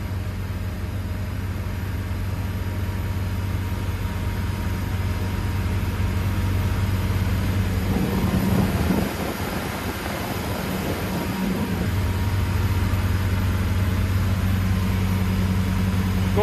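Rinker 270 boat cruising about 25 mph at 3,800 RPM on its Volvo Penta D4 260 hp diesel, a steady low engine drone with hull and wind noise, briefly louder and more turbulent midway, no talking.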